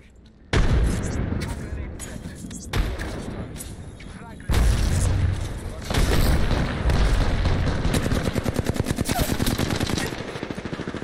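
A grenade goes off in a video game amid loud, dense gunfire, with heavy booms and sustained rapid bursts filling the whole stretch while players talk over the noise.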